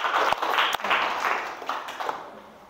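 A short burst of classroom applause for a student group, moderately loud clapping from a room of students that gradually tapers off over a couple of seconds.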